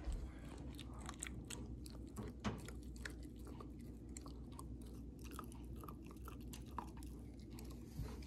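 A pit bull puppy gnaws on a dog teething ring beneath a coffee table, producing soft, steady close-up chewing and crunching with small wet squishes and occasional sharper bites, quiet and unbroken with no talk.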